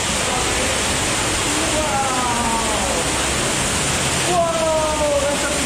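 A hidden waterfall roars inside a cave, a steady, loud broadband rush that fills the space without pause, with faint whistly tones drifting over it and no voices.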